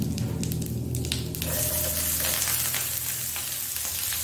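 Cumin seeds hit hot cooking oil in a pan while an aloo, baingan and tomato dish is made, giving a steady, close hiss of frying that swells into a broad, continuous sizzle with no talking.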